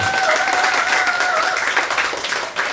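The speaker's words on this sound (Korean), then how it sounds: "대신 여러분은 자신 있게 박수를 한번 쳐줘야 되는 거야." An audience at a lecture on healthy walking into old age claps on cue, a dense, lively patter of many hands with a tonal voice or hum running faintly underneath.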